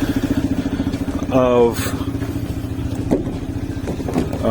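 A CSC RX3 motorcycle rumbles along with a steady, pulsing engine note and rises briefly in pitch as it revs, heard up close with a voice talking over it.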